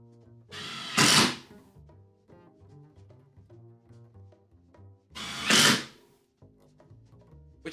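A power drill drives screws into wood while shed doors are built, two loud whirring bursts a few seconds apart, with quieter knocks and handling noises between them.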